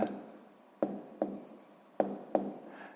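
Pen strokes on paper during a sixth-grade math exercise, a series of short scratchy bursts at irregular intervals, close and fairly quiet, with no voice over them.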